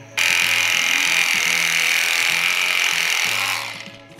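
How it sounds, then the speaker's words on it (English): A hacksaw with a fine blade saws through a hose on a boosted Toyota pickup during an oil cooler install, giving a steady, close, rasping buzz for about three seconds before it stops abruptly. "all you need to cut this is a hacksaw, a nice fine blade"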